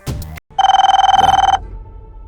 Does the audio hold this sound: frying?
no